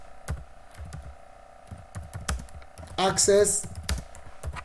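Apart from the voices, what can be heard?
typing a command on a computer keyboard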